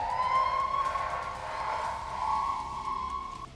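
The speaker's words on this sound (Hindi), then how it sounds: "सायरन की साए साए आवाज खार्किव में दहशत और खौफ पैदा कर रही है।" An air raid siren in Kharkiv wails steadily in a long, sustained tone, rising and falling slightly, heard from a distance with no talking.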